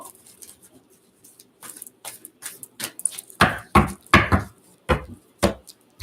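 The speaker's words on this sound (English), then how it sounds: "Gonna give it a good shuffle" A deck of angel oracle cards is shuffled by hand, giving irregular soft taps and riffling slaps that grow louder and more rapid, up close with no talking.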